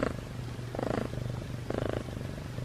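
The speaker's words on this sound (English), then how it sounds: "Can you hear her purr?" A female cat purrs steadily and close up indoors in a home closet, a continuous low rumbling with two louder swells of breathy purring.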